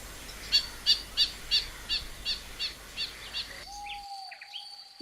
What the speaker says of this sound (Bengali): রং বেরঙের এসব পাখির কিচিরমিচির শব্দ সবুজ কোয়ান্টামমের প্রতিটি প্রান্তরকে করে তোলে মুখর।